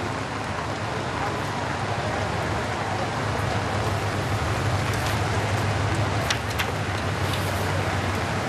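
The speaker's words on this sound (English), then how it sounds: "The rain is pouring on, and yet they're shouting, waving their flags" Heavy rain pours steadily over a crowd lining Shenton Way in Singapore during the funeral cortege of Lee Kuan Yew, a dense, even hiss with occasional distant voices and traffic beneath it.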